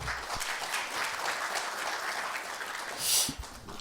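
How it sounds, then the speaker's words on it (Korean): An audience at a lecture event applauds in a sustained, moderately distant wash of clapping, with a brief louder hissy burst near the end. "두 분께 다시 한번 큰 박수 부탁드립니다"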